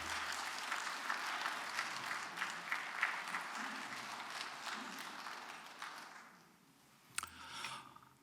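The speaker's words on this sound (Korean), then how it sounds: "박수로 환영해 주시기 바랍니다." A church congregation at a Sunday service claps in welcome for a visiting pastor, a steady, moderately faint patter of many hands that tapers off, followed by a brief knock or scrape.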